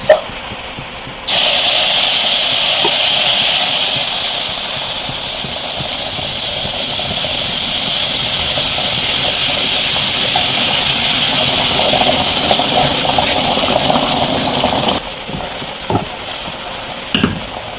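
A loud, steady sizzling hiss of water hitting a hot pan of browned pancit bihon, continuing for many seconds before cutting back to quieter kitchen sounds.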